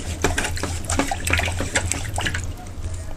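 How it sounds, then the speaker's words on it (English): Paintbrush loaded with grayscale acrylic paint mixed with glycerin being swished and wiped in a water cup, giving a run of close, soft splashy dribbles and clinks spread over a few seconds, with a steady low hum underneath. "Just wiping off the brush real fast."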